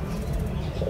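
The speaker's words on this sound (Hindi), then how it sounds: "ये सारे कबूतर हैं" Soft, low pigeon coos murmur continuously at close range, with no voices.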